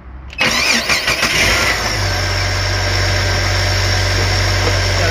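A car's starter is jumped by putting 12 volts on its signal wire: a brief cranking whir, then the engine catches and settles into a loud, steady close idle.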